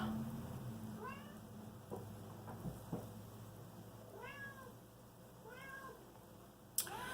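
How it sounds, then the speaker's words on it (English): A pet cat meows several times indoors, with short rising-and-falling calls spaced a second or two apart over a quiet room background. "So my cat is very active right now because he just ate."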